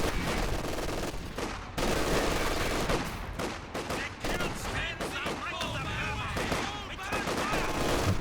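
LMG machine-gun fire from Company of Heroes 2, as LMG Grenadiers fire on advancing Shock Troops, making dense, continuous rattling bursts layered with other battle noise, loud throughout with a voice talking over it.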